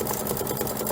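Kimberbell embroidery machine stitching a hoop sampler, a steady rapid needle chatter and motor hum running continuously, close and fairly loud, with no voices.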